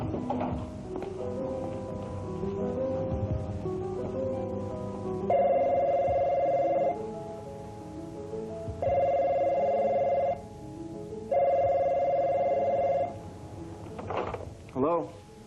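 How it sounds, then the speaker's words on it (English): Telephone bell ringing in three loud, sustained bursts with pauses between them, following some clattering and muffled voices. "Tad, why are you answering the phone?"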